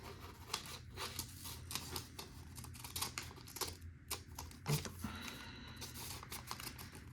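Scissors snip through fabric while cutting out a basic hood pattern. Quiet, irregular clicks and cuts sound close by at low level, with a slightly louder snip partway through. There is no talking.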